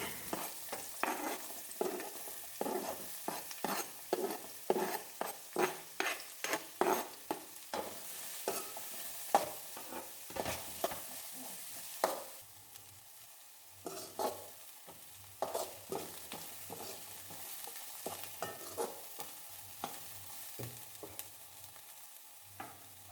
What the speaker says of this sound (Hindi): तो इसके बाद आपको इसमें ऐड करना है प्याज। यहाँ पे मैंने 2 मीडियम साइज़ के प्याज बारीक कट करके लिए हैं।